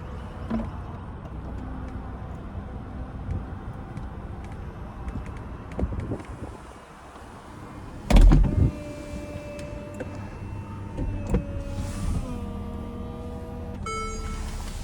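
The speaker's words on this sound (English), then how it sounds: "Go ahead and put the roof back up. And we can watch that." The motorized roof of a 2014 Mercedes-Benz SLK 350 convertible whirs and hums through its closing cycle, with mechanical clunks and a sharp thump partway through, over steady outdoor background noise.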